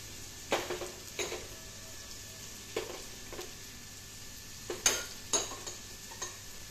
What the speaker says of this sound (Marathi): त्यानंतर याच्यामध्ये हे आपण जे बारीक केलेले आल्याचे तुकडे आहेत ते टाकूया।